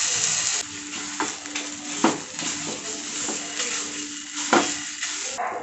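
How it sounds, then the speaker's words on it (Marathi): Khoa (milk solids) sautéed in a pan over low heat for traditional panchkhadya modak, a soft continuous sizzle broken by scraping stirs and occasional spoon knocks against the pan, with no voices. "आता आपण खवा परतून घेऊयात।"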